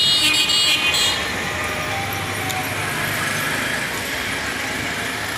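Steady busy road traffic by a Dhaka park, cars and rickshaws passing in a continuous close wash of engine rumble and tyre noise, with a brief horn toot near the start.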